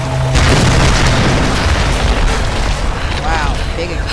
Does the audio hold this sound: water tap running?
no